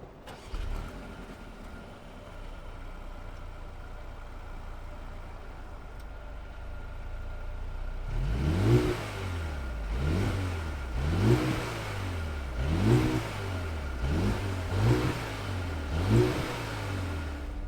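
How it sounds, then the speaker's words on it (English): A 2021 Mercedes-AMG GLA 35 sits idling quietly, then its engine fires and is blipped in a string of about six sharp revs, each rising and falling in quick rhythm, close and loud with no talk. "let's fire up this AMG GLA 35 and hear what it sounds like"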